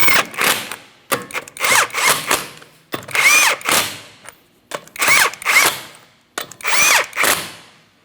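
Power tool driving the 19mm lug nuts on the rear wheel of a 2004-2008 Pontiac Grand Prix, five loud close bursts of whirring and rattling, each a second or so long, separated by short pauses.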